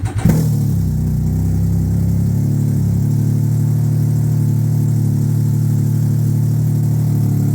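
A Can-Am Ryker three-wheeled motorcycle engine cranks briefly, catches and settles into a loud, steady idle that continues close by without revving.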